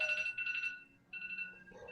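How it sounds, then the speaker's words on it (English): A phone alarm rings in repeated electronic tone bursts, loud and close, with a short gap before the tone starts up again. "turn that alarm off"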